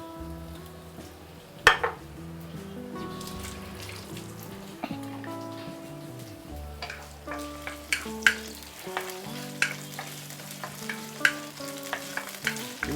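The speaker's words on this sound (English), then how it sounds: "You want to saute the ginger first, and we can put in the white portion of the spring onion." Ginger and the white part of spring onion sauté in hot oil in a wok, a steady close sizzle broken by sharp clanks and scrapes of the spatula stirring, growing busier toward the end.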